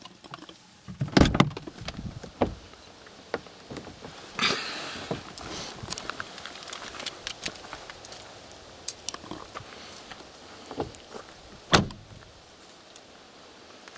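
Doors of a 1997 Mercedes-Benz C220D W202 shut with several solid, sharp thuds spaced out over the stretch, alongside softer handling clicks and rustles nearby and no talking.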